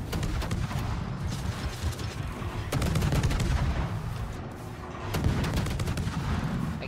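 The Chinese cruiser Jinan's guns fire in a naval battle game, sending repeated heavy booms and sharp reports over a dense rumbling background, with a strong salvo roughly every couple of seconds.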